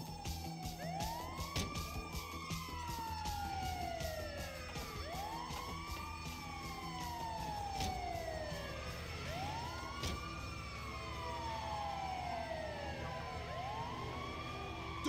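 A Grand Theft Auto V ambulance siren wails, sweeping up and down repeatedly and continuously, loud and close, layered with engine rumble and rapid clicking.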